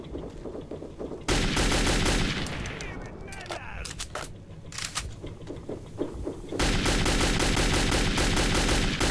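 Loud bursts of rapid gunfire from the video game Metro 2033, with a quieter stretch of scattered shots and clatter between the heavy volleys.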